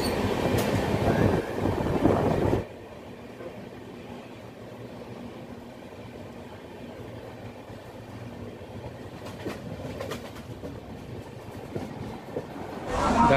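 The Tamralipta Express, train 12857, runs on rails with a steady low rumble and clatter, loud at first and then a quieter continuous rolling with occasional clicks.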